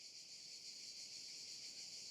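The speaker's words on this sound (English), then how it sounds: "while the insects keep the brick and the grass company" Crickets chirping at night beside the ancient Appian Way near Rome, a steady, continuous high-pitched trill that is faint and distant, with no other sounds.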